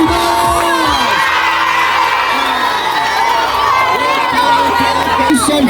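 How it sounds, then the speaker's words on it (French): A crowd of about 400 school students packed together outdoors, loud and close, shouting, cheering and chattering in an overlapping din with children's voices rising and whooping throughout. "toute une foule de près de 400 élèves s'est rassemblée autour de nous"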